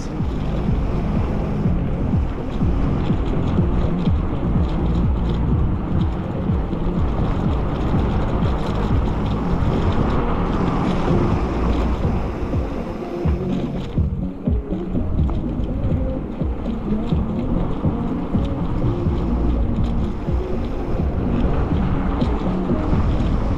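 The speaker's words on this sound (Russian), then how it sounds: "Ох, какой ветер. Задул паршивец." Strong wind buffets the microphone during an evening electric bike ride in a dark park in Yalta in February, a loud, constant rumbling roar with no speech.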